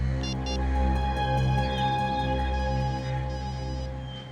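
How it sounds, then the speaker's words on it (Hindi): Mobile phone ringtone sounding in a TV crime drama scene, a steady tonal electronic melody with repeating beeping accents, fairly loud and continuous without voices. "सर घंटी बज रही है।"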